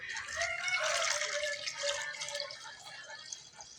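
Water poured into a bowl of mixture for Haitian dough balls, a steady splashing, trickling pour that runs close and fairly loud for most of the clip before easing off.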